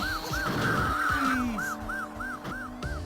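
In a racing video game, a car engine hums under a repeating warbling siren-like tone, with sliding pitch sweeps of tyres skidding mixed in.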